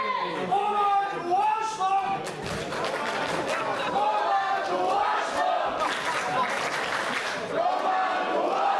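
Loud, continuous crowd roar and cheering fills a professional wrestling arena during a championship match, with rising shouts and chants swelling throughout and scattered clapping underneath.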